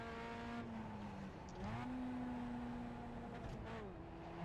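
A race car lapping the Nurburgring, its engine droning steadily from inside the cockpit, pitch dipping and climbing through a corner as the rear slides, loud and continuous with no speech.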